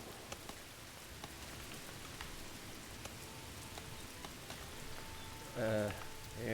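Rain pours steadily into a roofless building in the Polylithic video game, an even, hissing patter throughout, with a brief voice heard near the end.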